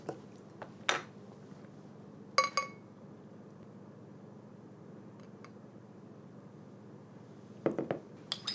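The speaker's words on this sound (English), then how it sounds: "Let's go ahead and get it cracked open into a glass" A bottle of Weihenstephaner Korbinian doppelbock, a dark beer, is opened and handled near a glass, giving a few sharp clinks and clicks over a faint steady hiss in a quiet room.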